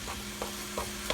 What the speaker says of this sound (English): we got our meat starting to sizzle